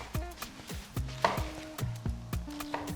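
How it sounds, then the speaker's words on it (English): Cooked pomo (cow skin) is sliced into small bits with a knife on a board, quick rhythmic chops, about a dozen close, crisp thuds at an even pace with no talking. "let me slice my pomo into small chops, small bits"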